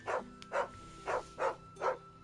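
A dog in Final Fantasy XVI barks five times at an even pace, each bark clear and close over a quiet game background.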